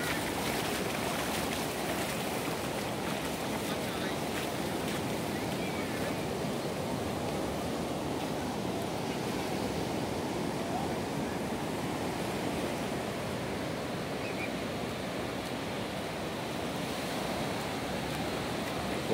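Sea waves wash steadily onto Praia das Astúrias beach in Guarujá as the tide rises, a continuous broadband roar of surf with no breaks, fairly close and constant throughout.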